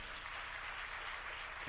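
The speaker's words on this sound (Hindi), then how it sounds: "बहुत बढ़िया, जोरदार तालियां साहब" Steady, dense applause from a live religious discourse audience, continuous and even throughout, heard at a moderate distance with no voices on top.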